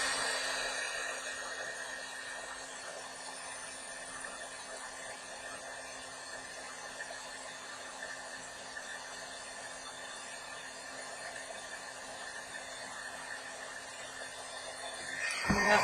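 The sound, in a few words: heat gun melting UTEE embossing powder on paper beads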